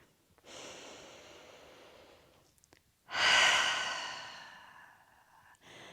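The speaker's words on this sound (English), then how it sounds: "taking a nice big deep inhale through the nose and an exhale through the mouth" A deep breath during a yoga session for the neck and shoulders: a soft inhale, a pause, then a louder, longer breathy exhale through the mouth that fades out, close and alone.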